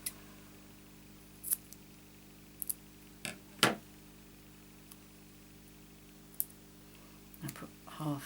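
Scissors snip a paper bow in half in a quiet room, with a few soft, separate cuts and clicks spread apart. Two stronger snips come in the middle and another cluster comes at the end.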